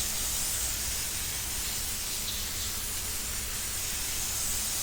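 A garden hose nozzle sprays water onto seedlings during hardy hibiscus cutting propagation, a steady, close, even hiss that continues without pause for the whole stretch with no voices over it.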